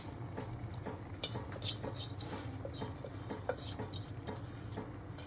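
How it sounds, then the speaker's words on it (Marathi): Basmati rice tipped into a pot of spiced biryani base with homemade garam masala, a soft rattling patter of grains and faint metal scrapes over a low steady hiss, with no talking. "आता आपण ह्याच्यात टाकणार आहेत बासमती राईस"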